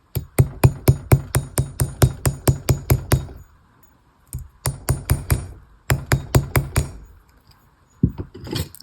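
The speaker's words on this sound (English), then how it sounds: "we're going to bring in nylon hammer. And we're going to lock this crisscross area in with this nylon" A nylon hammer taps repeatedly on a crisscrossed wire jewelry loop, delivering close, sharp strikes in quick steady bursts separated by short pauses, with no one speaking.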